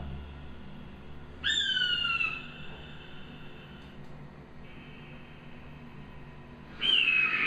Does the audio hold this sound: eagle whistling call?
yes